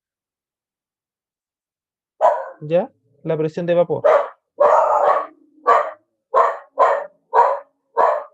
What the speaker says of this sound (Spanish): los perros están ladrando